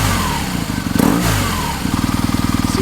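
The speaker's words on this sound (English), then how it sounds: "the main party piece of this motorcycle is the boxer motor" A motorcycle's boxer engine revs sharply up and down, then settles into a lumpy, pulsing idle, loud and close.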